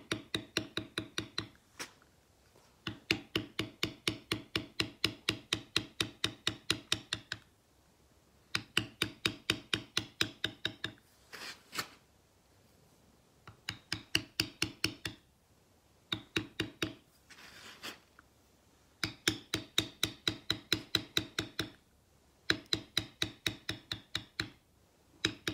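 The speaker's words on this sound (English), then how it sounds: "I'm going to come back with another bevel" A beveling tool is struck with a mallet on leather tooled with an oak leaf and acorn wallet pattern: rapid, even bursts of sharp close taps separated by short pauses, repeated throughout.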